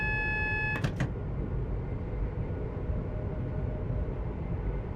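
An AWS warning alarm sounds in the cab of a class 350 train on the West Coast Main Line in Train Sim World, a loud tonal alert that cuts off after about a second, followed by steady low cab rumble.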